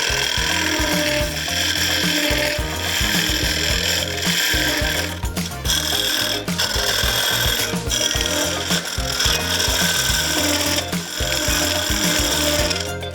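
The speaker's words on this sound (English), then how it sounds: "Then I take a little scraper with a swan neck." A small swan-neck scraper cuts into a wooden flask spinning on a lathe, a close, gritty scraping with a rapid rhythmic chatter from the turning wood, broken by a few brief pauses.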